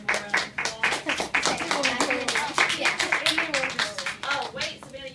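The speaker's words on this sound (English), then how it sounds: "One more round of applause." Steady applause from a group, many hands clapping in a dense rhythmic patter, with voices audible underneath.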